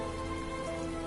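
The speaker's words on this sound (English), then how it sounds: "some more heavy rain." Heavy rain falls steadily in the video game Heavy Rain, a dense, even hiss of downpour with no break and no voices.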